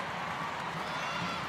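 Stadium crowd at a women's international football friendly between the Matildas and Canada in Brisbane, a distant, steady roar of cheering and noise that stays broad and even throughout.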